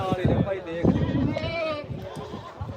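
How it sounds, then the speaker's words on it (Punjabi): A male goat bleats loudly several times up close at the Dhanaula goat market, its wavering cries overlapping with people talking nearby. "ਦੇਖੋ ਜੀ ਬੱਕਰਾ"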